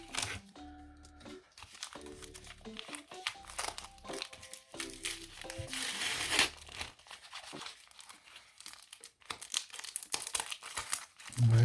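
A paper envelope from a secondhand Pokémon card lot is torn open by hand, with crinkling and a loud ripping burst midway among soft rustles and handling noises.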